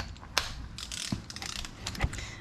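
A ratchet wrench works on a Jeep wheel bearing nut, making a brief run of close, metallic ratcheting clicks with a few sharper knocks between them.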